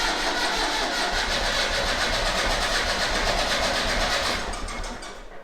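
A Massey Ferguson 35X tractor engine cranks over and runs roughly on a cold start, with a rapid, even, throbbing chug close by that fades away near the end.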